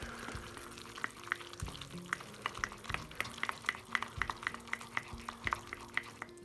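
A spoon or spatula stirs butter pieces into hot melted caramel for chocolate caramel vanilla candies, giving a steady stream of soft scraping ticks and gentle sizzling in a quiet kitchen.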